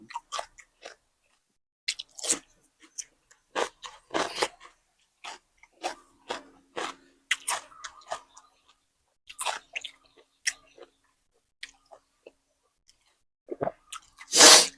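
Crisp, close crunching and chewing of fresh cucumber and blanched squid with spicy seafood dipping sauce, a Thai mukbang meal; irregular bites and chews come in repeated bursts with short pauses and no talking.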